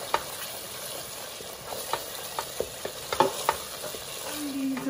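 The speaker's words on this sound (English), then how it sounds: "Keep stirring. Turn the heat up slightly now." Spices, onions and tomatoes with passata fry in oil in a pan while being stirred: a steady close sizzle runs throughout, broken by a series of scraping, tapping stir strokes, with no talking.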